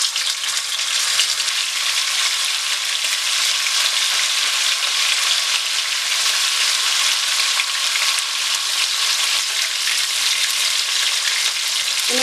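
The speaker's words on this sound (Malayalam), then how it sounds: "ഇതിലേക്ക് നമ്മളിവിടെ പകുതി കുക്ക് ചെയ്ത് വെച്ചിരിക്കുന്ന ചിക്കൻ ഇട്ട് ഫ്രൈ ചെയ്ത് കൊടുക്കാം" Half-cooked chicken frying in hot oil in a pan for a Manjali biryani gives a steady, loud, unbroken sizzle that fills the whole stretch, with no voices.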